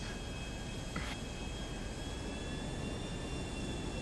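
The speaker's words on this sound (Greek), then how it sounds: "Πάμε να προσγειωθείς το αεροπλάνο" An airplane in the video game GTA5 drones steadily as a continuous broadband engine roar with faint high whining tones, unchanging and fairly loud throughout.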